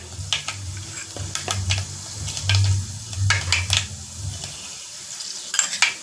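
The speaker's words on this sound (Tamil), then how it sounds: "வெந்தயம் போட்டு நல்லா அது பொரிஞ்சு வரட்டும்." Fenugreek seeds spluttering in oil over a low flame, soft sizzling with sharp pops and pan or spoon clinks at irregular intervals, plus a low hum underneath, quiet and near.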